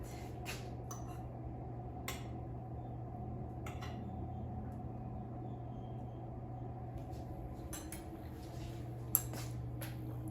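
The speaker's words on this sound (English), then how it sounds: "And let me just cut the pork to show you" A knife slices through a tender Instant Pot pork chop beside potatoes, making a few soft, brief scrapes and clicks against a plate over a steady low hum.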